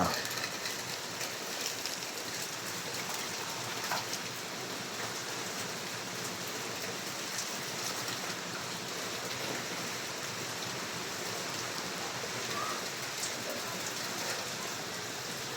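Rain falls steadily on a rainy day, a soft, even hiss of drops on surfaces with light pattering, faint and continuous with no voices.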